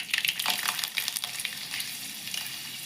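Garlic cloves dropped into hot oil give a bright, crackling sizzle, busy and sputtery at first, then settling into a steady softer hiss, close up and with no voices.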